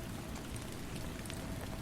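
Steady rain falls on a roof, a dense, even patter of drops that stays constant and fairly soft throughout, with no voices.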